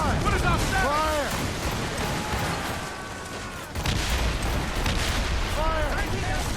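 Ship cannon fire in Assassin's Creed Rogue during a naval battle, heavy booming volleys with rumbling explosions near and far, while voices shout over the barrage.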